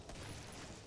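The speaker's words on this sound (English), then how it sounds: "I can hear gunfire." Gunfire in the video game Killing Floor, heard as a faint, distant burst of shots blended into a low rumbling background with no clear individual reports.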